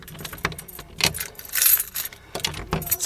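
A bunch of keys jangles in several metallic bursts as someone unlocks a front door at home, fairly close and loud with brief pauses between shakes.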